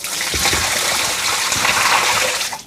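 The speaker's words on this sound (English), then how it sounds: "Okay, let's dump it out." Dirty water gushes and splashes steadily out of the tank of a Dreame L40 Ultra robot vacuum and mop as it is emptied, a close, continuous pour lasting a few seconds.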